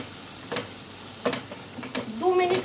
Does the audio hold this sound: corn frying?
yes